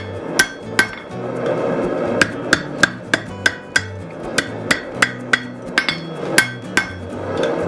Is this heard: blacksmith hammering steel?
yes